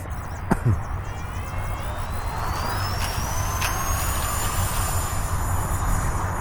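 A small E-flite UMX F-86 Sabre 30mm electric ducted-fan jet model takes off from a cracked runway, its fan whine rising steadily in pitch over a loud, continuous rushing roar, close by and unbroken.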